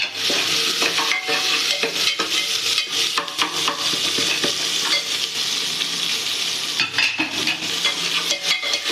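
Onions sautéing in a pan, with a steady sizzle broken by frequent scraping and clinking as a utensil stirs them, close and fairly loud.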